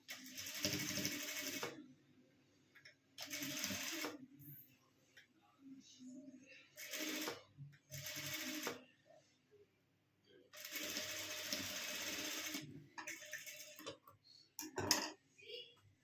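A sewing machine stitches net fabric for a puffed sleeve design in short loud bursts of rapid whirring, separated by quiet pauses with faint handling and a little talk.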